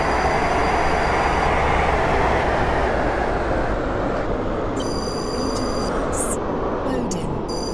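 A five-coach passenger train rolls along steadily in the Roblox game SCR, heading from Stepford Central to Port Benton, with a constant broad rumble. Brief electronic chimes sound near the end.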